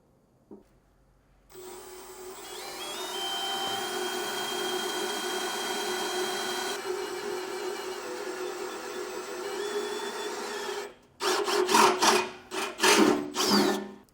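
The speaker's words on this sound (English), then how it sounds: "we'll come back through with our 3/16 drill bit and we'll just drill these all out" A power drill with a 3/16-inch bit, drilling holes while installing an air compressor system on a 2020 Ford truck, whines steadily for several seconds, then bites in short, loud grinding bursts, with no talking.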